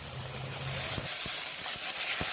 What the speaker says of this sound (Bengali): লোটে মাছটা ভাজা চলছে আর একটু ভেজে নেবো হালকা করে